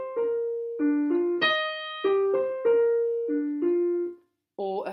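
A short melodic phrase played on a single pitched instrument, its opening bar stated and then repeated, with clear sustained notes at moderate loudness and a brief pause near the end.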